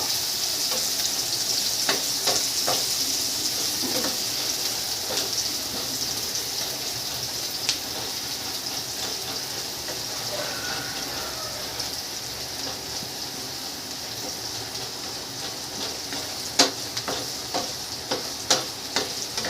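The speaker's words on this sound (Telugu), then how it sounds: "ఆనియన్ కొద్దిగా ఫ్రై అవ్వనివ్వవు" Onion frying in a pan for a breakfast made from leftover rice, a steady, even sizzle and crackle running throughout, with occasional sharp pops and stirring taps, no talk.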